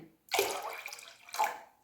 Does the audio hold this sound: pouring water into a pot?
yes